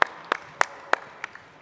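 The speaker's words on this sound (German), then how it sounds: "dann kann man dafür auch vor allem mal klatschen, wenn jetzt hier Sinjil und Feigling auf die Bühne kommen" Sparse, sharp claps ring out as players walk on stage at a live event. There are about six distinct hand claps spaced roughly a third of a second apart, fairly close and loud, with no talking.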